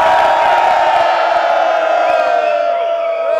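A conference audience cheers, whoops and yells loudly, all at once, a dense crowd roar that fades a little toward the end.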